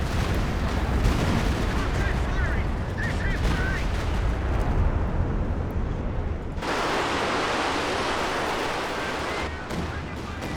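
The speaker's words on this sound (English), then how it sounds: "Slightly off target there from the Panzerwerfer." Panzerwerfer rocket artillery barrage in a real-time strategy battle, with dense rumbling explosions and heavy blasts rolling on continuously at close range, loud and layered, with a fresh wave of impacts partway through; a voice talks over it.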